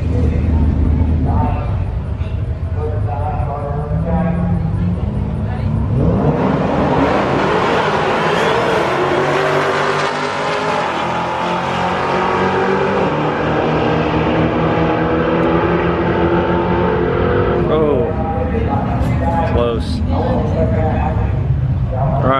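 Drag racing cars, a Hellcat, Redeye and Demon, launch and roar down the strip, engines rising into a loud, sustained passing rumble, with crowd noise and talk over it.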